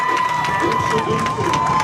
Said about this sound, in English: So if you hear our fans, that's us.